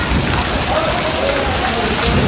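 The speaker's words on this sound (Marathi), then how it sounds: "खूप मुसळधार पाऊस आहे गाराचा पाऊस" Heavy hailstorm rain at Killa Dharur, a dense, unbroken hiss and patter of rain on surfaces, steady and close throughout with no break.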